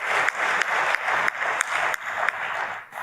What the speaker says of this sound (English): Maybe give them a big round of applause.